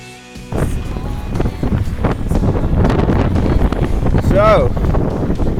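Wind buffeting a microphone on a bicycle during a race across South Africa's Karoo, a loud, continuous rushing roar with gusty low rumble, a faint whistle-like tone rising briefly near the end.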